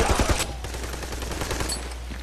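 Rapid automatic gunfire from Army of Two: The Devil's Cartel, a loud cluster of close shots at the start trailing into quieter continuing fire.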